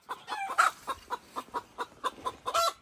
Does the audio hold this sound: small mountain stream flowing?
no